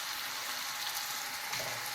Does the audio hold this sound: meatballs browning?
yes